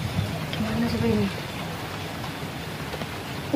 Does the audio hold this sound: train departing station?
no